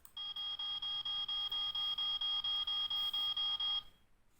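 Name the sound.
fire brigade alarm sound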